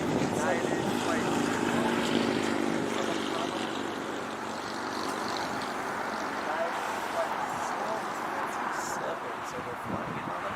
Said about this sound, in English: Got a north side arrival coming in right now with United on a Boeing 757